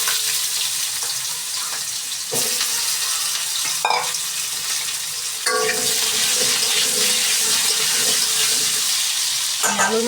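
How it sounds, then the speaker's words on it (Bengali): Potatoes frying in hot oil with cumin seeds, a close, continuous sizzle that grows louder and busier partway through, broken by a few brief stirring clatters, with no voices. "আলুগুলোকে ভালোভাবে ভেজে নেব লাল করে।"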